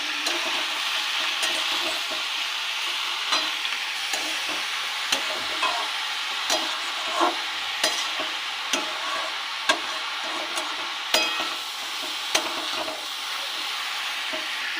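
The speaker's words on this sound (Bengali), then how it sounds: "স্বাদ অনুযায়ী লবণ, হলুদ গুঁড়ো, জিরে গুঁড়ো, ভালো করে মিশিয়ে নেব।" Mung dal sizzles in a pan with salt, turmeric and cumin powder while a spatula stirs it, producing steady frying hiss punctuated by irregular scraping clicks, close and continuous without speech.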